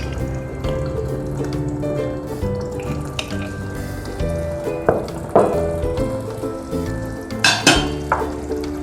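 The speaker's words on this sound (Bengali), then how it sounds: "ঘি দিলাম।" Ghee sizzles in a pan of cucumber shukto, a steady frying hiss with soft clinks and scrapes of stirring throughout, close and fairly loud, no voices.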